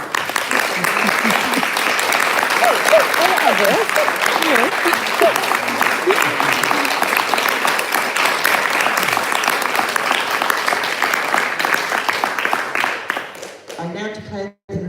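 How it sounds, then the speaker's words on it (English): An audience at a Plymouth gathering gives a long round of applause for two organisers, loud and dense clapping that carries on for around thirteen seconds before fading as a voice briefly speaks at the end. "So I'd like to have a round of applause for our two organisers."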